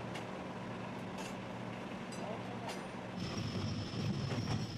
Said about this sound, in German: Alle 5 Sekunden reißen Greifarme die Schwellen aus dem Schotterbett.